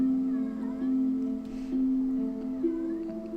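A cat meows several times indoors, drawn-out tonal cries close by and moderately loud, with brief pauses between them.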